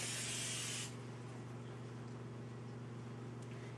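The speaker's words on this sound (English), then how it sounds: "you take butter flavored, no sticking cooking spray. And you put this on the bottom of your pan." Butter-flavored non-stick cooking spray hissing from an aerosol can onto the bottom of a brownie pan, one short close burst that cuts off sharply, followed by a low steady kitchen hum.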